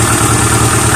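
A Suzuki 4WD buggy engine with 225,000 miles idles, a loud, steady, close-up rumble with an even mechanical pulse and no voices.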